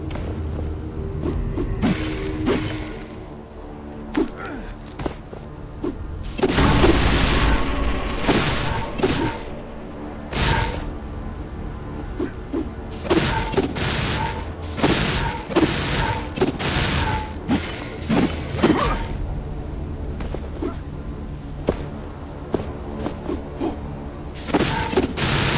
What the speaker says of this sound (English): Thelos altars can be destroyed by striking all of the glowing cracks on their surface